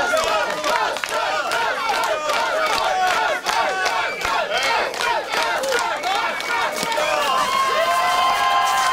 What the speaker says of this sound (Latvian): Aplausus visiem 1000.